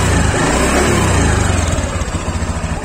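A Honda Beat Deluxe scooter engine revs up loud and close, then settles into a steady, throbbing idle with a clear even pulse.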